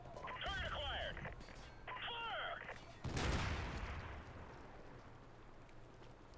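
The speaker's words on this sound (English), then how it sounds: "It was my gun that made that noise, not the tank" Single heavy shot from the player's gun in Modern Warfare Remastered, a sharp loud blast with a long fading rumble, following mechanical game sounds and with a voice in the background.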